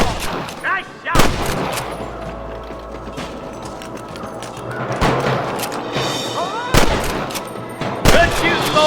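Gunfire in the Western video game Red Dead Redemption: loud sharp shots ring out at irregular intervals amid a busy battle mix with mechanical clicks, echoing over continuous background noise.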